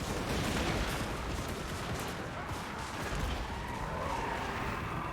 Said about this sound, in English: we're going to be seeing the Thunderers opening fire on some of these Saurus Warriors with shields